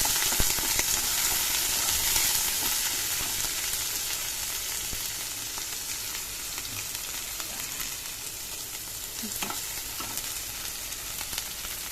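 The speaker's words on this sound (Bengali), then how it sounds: "পেঁয়াজ ভাজা ভাজা করে দেখো পেঁয়াজ দিলাম, পেঁয়াজটা ভাজা ভাজা করছি" Onions fry in hot oil with nigella seeds, giving a continuous close, bright sizzle for the whole stretch, with a few light stirring taps toward the end.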